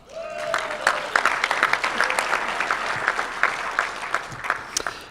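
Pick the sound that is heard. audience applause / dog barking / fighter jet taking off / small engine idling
audience applause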